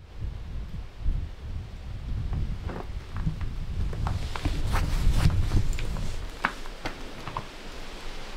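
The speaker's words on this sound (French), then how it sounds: "Un gros bruit de vent." Strong wind blows through an abandoned manor without window panes, a rough, gusty rush swelling and easing, with scattered soft knocks and rustles.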